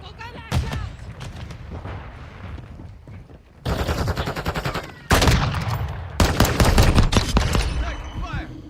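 Automatic gunfire in Call of Duty Modern Warfare II, loud bursts of rapid shots and fusillades in several waves, building in intensity toward the end with heavy overlapping fire.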